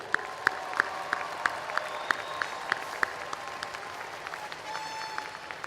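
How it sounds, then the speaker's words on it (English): Graduates clap at a Spring 2022 graduate school commencement: sparse, evenly spaced sharp claps carry on for about three seconds, then thin out, leaving a quieter hall. "Give yourself applause."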